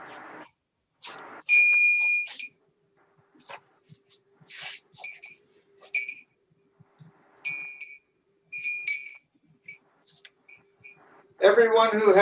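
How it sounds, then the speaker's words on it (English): Korean bell used in a Buddhist Jukai precepts ceremony, struck several times with clear ringing tones that sustain and fade between strikes, with short bursts of speech at the start and end. "So I'm going to now get the bell. It came actually from Korea,"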